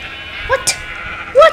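Sheep in the video game Minecraft give short bleats, two quick calls followed by a louder one, sharp and close over a faint game background.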